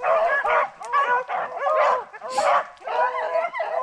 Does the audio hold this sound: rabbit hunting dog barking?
yes